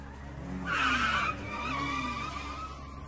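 A car skids with a sharp tire screech that rises loud for about half a second, then settles into a steady engine drone as it drives on, with no talking.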